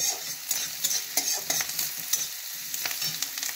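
Ginger, garlic and onion fry in ghee and butter with a steady bright sizzle, broken by repeated scraping stir strokes close up, and no voices.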